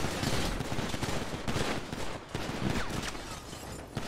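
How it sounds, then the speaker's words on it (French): Rapid gunfire in a Unity roleplay video game, with dense, overlapping bursts of shots crackling continuously at moderate loudness and no speech. "Attends, ça tire encore."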